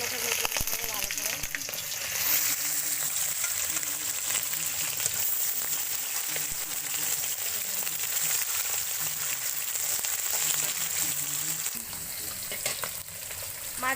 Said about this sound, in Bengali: তেল গরম হয়ে গেছে, এবার মাছ দেওয়া হচ্ছে।